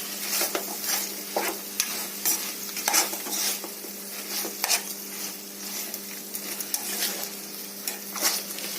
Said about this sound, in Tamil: பொரிச்சு வச்ச பொட்டேட்டோவை போட்டு கிளறிடலாம்